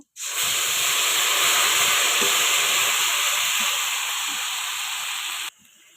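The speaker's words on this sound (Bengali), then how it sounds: "তো এখন এই তেলেই দিয়ে দেবো জিরে, গোটা জিরে, সাথে আদা আর লঙ্কা পেস্ট করে নিয়ে আসছিলাম, তো এটাও দিয়ে দিব।" Whole cumin seeds and ginger-chilli paste dropped into hot oil for a Bengali katla fish curry, bursting into a loud, steady, close hiss that fades slightly before cutting off abruptly.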